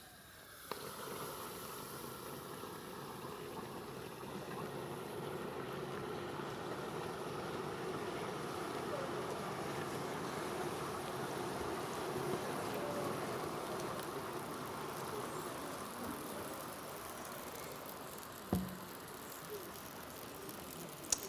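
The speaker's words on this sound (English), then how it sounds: "I'll pour the cold liquid nitrogen into the hot water" Liquid nitrogen poured into hot water, a sustained broadband hissing, bubbling roar that holds steady for about twenty seconds, with a couple of faint knocks near the end.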